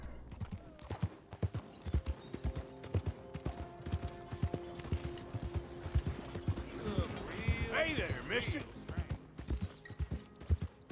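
Horse hooves clip-clop at a steady walking rhythm in the Red Dead Redemption 2 video game, with creaking tack and a brief whinny partway through, fairly close and moderately quiet.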